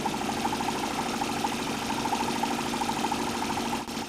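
A Stirling engine mounted on a bicycle running steadily, a continuous low mechanical hum with a faint regular pulsing rhythm, fairly quiet and close, with one small click near the end.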